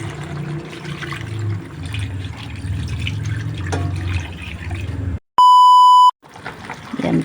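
Broth poured into chicken tinola with papaya gives a liquid splashing and pouring sound up close, broken by a loud electronic beep before the pouring resumes.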